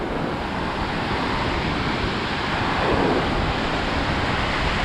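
Atlantic Ocean surf rolling onto Daytona Beach, Florida, late in hurricane season, a steady broadband wash with a slightly louder wave surging near the end, with wind buffeting the microphone throughout.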